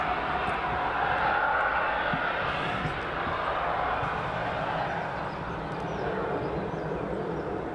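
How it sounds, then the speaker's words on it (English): A Gulfstream jet approaching the runway at East Midlands Airport gives a steady, broad roar of engine noise that holds at moderate loudness from a distance throughout. "catch this Gulfstream as it approaches us"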